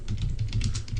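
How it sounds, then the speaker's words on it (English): Keys clack steadily on a computer keyboard as someone types text into a file, a quick, even patter of close, moderately quiet taps with no voice over it. "if I start just typing in here"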